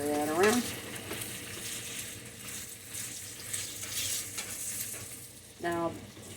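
Cubed strips of meat stirred and sizzling in a pan for a country breakfast, a steady frying hiss with scraping stir sounds, clearest at the start and again near the end.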